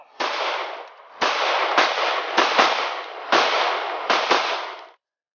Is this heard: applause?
no